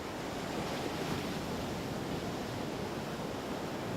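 Ocean surf washing in at a chilly surfing coast, a steady, full roar of breaking waves with no pauses, fairly close and loud, with no voices.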